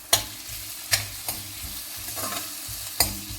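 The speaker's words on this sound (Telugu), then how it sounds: "1 స్పూన్ అట్లా వేసిన తర్వాత ఒకసారి మంచిగా మిక్స్ చేసుకోవాలి" Maggi noodles with vegetables and salt being stirred in a pan: a few sharp spoon scrapes at irregular intervals over a soft background sizzle, close by, with no talking.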